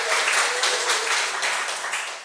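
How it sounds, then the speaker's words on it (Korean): A church congregation at a Sunday worship service breaks into warm applause, a dense wash of many hands clapping in a reverberant hall that sustains evenly and begins to taper near the end. "우리 박수 한번."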